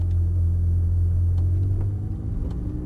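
Ferrari F430 Spyder pulling away in first gear with light throttle, a steady low engine rumble close by and loud, no talk.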